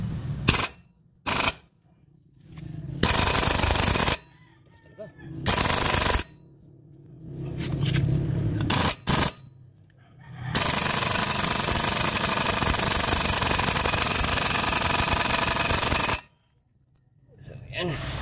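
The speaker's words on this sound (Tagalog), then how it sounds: "So subukan natin gamitin tong double impact pneumatic impact wrench natin." A double impact pneumatic impact wrench hammers in loud, harsh bursts, several short ones and then one long sustained run, with hiss and quiet gaps between them.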